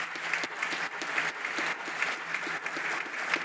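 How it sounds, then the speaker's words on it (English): Sustained applause from an audience at a higher education hall of fame induction ceremony in Oklahoma, dense steady clapping with small swells, alone with no talk. "Let's give those people a round of applause"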